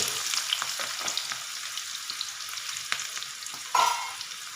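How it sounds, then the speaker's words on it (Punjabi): Onions and cumin seeds fry in hot refined oil for a dal tempering, giving a steady close crackling sizzle with scattered pops and a brief louder burst near the end, with no talking. "ਰਿਫਾਈਨਡ ਆਇਲ ਗਰਮ ਹੋ ਗਿਆ ਤੇ ਵਿੱਚ ਜੀਰਾ ਪਾ ਦਾਂਗੇ ਨਾਲ ਹੀ ਕਰ ਦਾਂਗੇ ਪਿਆਜ਼"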